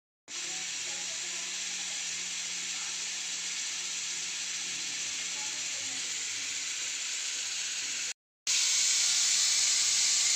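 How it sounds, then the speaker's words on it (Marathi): Steam hisses steadily and loudly from a pressure cooker's whistle as it cooks a pea and carrot pulao, a continuous spray-like rush that breaks briefly and returns even brighter and harsher near the end. "कुकरची ही आता 3री शिट्टी झालेली आहे."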